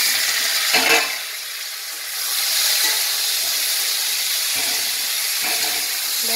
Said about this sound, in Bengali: ঘিটা গরম হয়ে গেছে দিয়ে ওর মধ্যে আলুগুলো তুলে দিয়ে আলুগুলোকে ভেজে নেব।